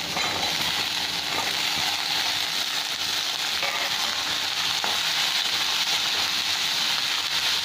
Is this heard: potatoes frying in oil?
yes